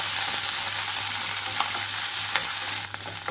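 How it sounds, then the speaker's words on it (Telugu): Red and green chillies frying with sesame seeds in a pan, a loud, dense, continuous sizzle close by with faint stirring scrapes and no talk. "వీటిని ఇప్పుడు ఇందులోకి పండు మిరపకాయలు, 2 పచ్చిమిరపకాయలు కూడా వేసి వేయించుకుంటున్నాను."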